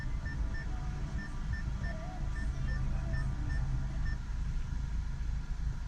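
A phone places a call over the Bluetooth stereo of a 2011-2019 Ford Focus, with a steady series of evenly spaced dialing beeps over a constant low cabin rumble.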